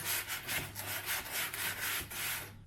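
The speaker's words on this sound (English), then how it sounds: "So I'm gonna go ahead and sand, at least try to sand like the edges, or so it's straight-ish" Sandpaper rubbed back and forth along the rough edges of a wooden window arch, a steady close scratching in repeated strokes with no talking.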